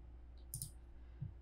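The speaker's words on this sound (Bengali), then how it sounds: "এবার এন্টার দিচ্ছি" An Enter key is pressed on a computer keyboard during AutoCAD work, giving two faint, sharp clicks about half a second apart against a quiet background.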